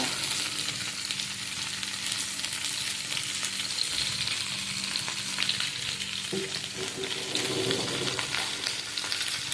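Egg masala ingredients frying together in a pan give a steady, dense sizzle that runs unbroken from start to finish, with a few faint stirring scrapes near the end and no talking.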